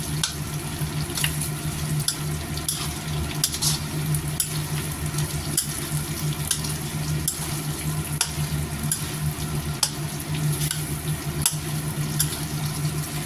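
Pork belly fries in its own rendered fat in a pan, a steady loud sizzle with crackling pops and periodic scraping strokes as it is stirred continuously.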